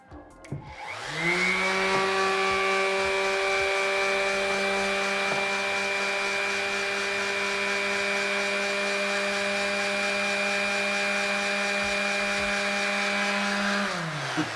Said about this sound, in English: Let's see if it'll power a sander.